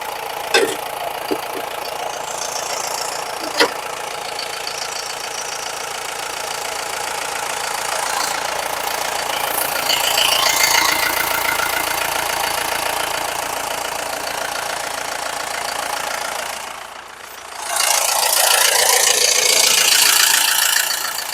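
A Mahindra Bolero's engine idles steadily, a continuous mid-pitched rumble with a faint knocking beat that holds nearly unchanged, dipping briefly near the end before resuming at the same level.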